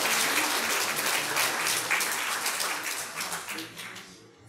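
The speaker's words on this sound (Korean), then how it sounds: "우리 박수 부탁합니다." Audience applause fills a graduation ceremony, a dense, steady wash of clapping from many hands that holds strong and then thins and fades toward the end, with no voices over it.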